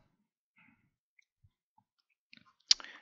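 A computer mouse clicks once, crisp and close, in near silence after a few faint ticks.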